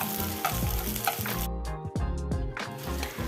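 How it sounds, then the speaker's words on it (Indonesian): Garlic, shallots and tomato sauté in a hot pan with a continuous close sizzle and occasional stirring scrapes, heard over steady background music. "tumis terlebih dahulu bawang putih sampai warnanya sedikit kecoklatan, lalu masukkan bawang merah"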